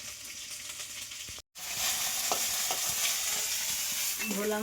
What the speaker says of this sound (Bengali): ভোলা মাছ ভাজা আমার কমপ্লিট হয়ে গেছে।